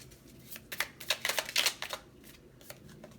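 A deck of tarot cards is shuffled close by, with quick riffling bursts of crisp flicks and snaps building to a flurry, then a few slower trailing slaps.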